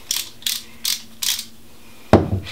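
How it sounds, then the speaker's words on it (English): A ratcheting hand screwdriver used while assembling a plastic boa cage gives four evenly spaced bursts of ratchet clicking, then a louder knock. Close and clear, with no talking. "I recommend just a hand screwdriver like this ratcheting model"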